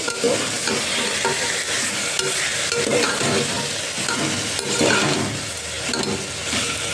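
Biryani tempering frying in a pressure cooker for a country-style chicken biryani: a steady, fairly loud sizzle with the scrape of stirring, continuous and close, with no talk.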